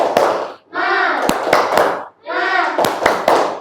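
A class of children claps a rhythmic spirit chant, with bursts of loud, close hand claps and sharp accented beats mixed with their chanting voices, then a short pause and a second round.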